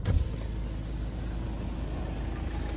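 Faint steady road rumble inside a car crawling through stop-and-go traffic, a continuous low hum with a small thump at the start and no voices.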